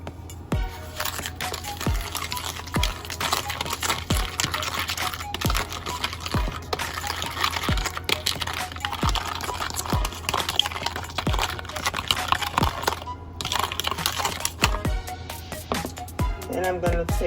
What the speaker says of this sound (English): Alright, going to give that a nice stir.